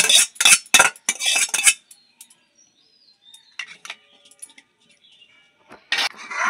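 A spoon mixing caramel into warm milk, quick rattling clinks of metal against a bowl at the start and again at the end, with a quiet pause and faint scrapes between.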